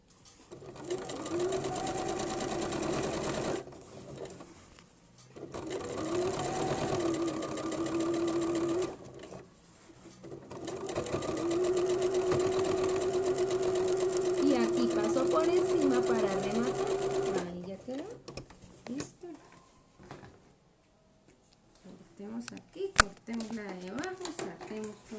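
A sewing machine stitches slowly through a thick paper-technique bag in three steady runs separated by pauses, with someone speaking Spanish over the motor hum and some handling clatter near the end.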